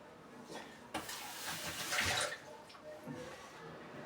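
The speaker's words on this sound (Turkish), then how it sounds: "Dokunmadan yavaşça suyu dolduruyorum." Water poured slowly into a drinking glass during a party game of filling a glass to the brim, giving a soft, uneven trickling splash that swells in the middle and tapers off, heard alone at low level.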